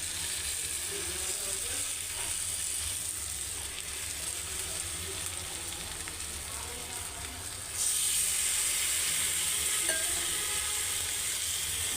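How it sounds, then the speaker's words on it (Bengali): Pomfret pieces sliding into melted butter in a pan give a steady broadband sizzle that swells louder and brighter partway through as more fish goes in, with no talking. "দেখুন বাটারটা মেল্ট হয়ে গেছে। এবার আমি মাছগুলো এইভাবে আস্তে আস্তে দিয়ে দেবো।"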